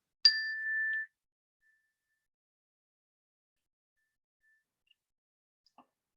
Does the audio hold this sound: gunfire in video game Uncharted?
no